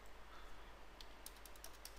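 Keys tapped on a computer keyboard, entering numbers, a short run of light clicks clustered in the second half over a steady low hum, with no talking.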